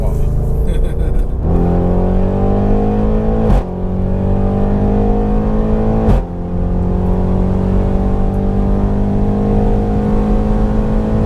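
An 800 bhp methanol-injected Audi RS6 engine revs and climbs through gears with a loud, rising drone and brief dips between shifts, heard from inside the car.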